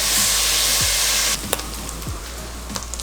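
Meat browns in a hot pan seasoned with black pepper and salt, a loud steady sizzle that drops off partway through, followed by scattered utensil taps and quieter frying.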